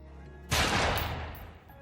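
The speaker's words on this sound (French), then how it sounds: "Un enregistrement audio des derniers mots de Conrad et du coup de feu fatal a été enregistré par la police" A single loud gunshot from a suicide cracks suddenly and decays into a rough, fading tail over a quiet background hiss, heard on a police recording.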